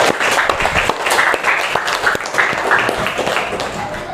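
A classroom of students breaks into applause: a crowd of scattered, uneven hand claps with voices mixed in, moderately loud and close.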